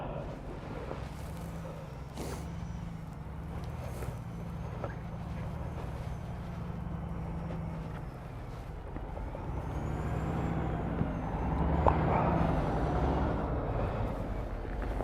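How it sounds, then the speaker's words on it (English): A bus engine idles in a snowy Provincetown street after a nor'easter blizzard, a steady low diesel rumble that carries on throughout, with a few faint clanks and a slight swell in loudness near the end. "So much for our no idling ordinance. That bus has definitely got its engine going."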